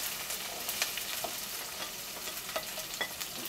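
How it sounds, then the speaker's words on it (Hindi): Onions frying in oil with whole spices for an Indian chicken curry, a steady bright hiss of sizzling with soft crackles and scattered stirring clicks, close and continuous without any voices. "अनियन को हम सॉफ्ट हो जाने तक फ्राई कर लेंगे"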